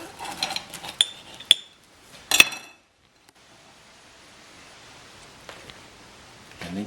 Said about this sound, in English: cut it into a couple of convenient slices